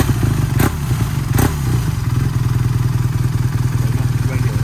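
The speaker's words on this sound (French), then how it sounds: "ça reste un bicylindre de chez BM" A BMW R nineT Racer 1200 twin-cylinder motorcycle engine idles with a steady, throbbing low rumble and a couple of sharp clacks near the start.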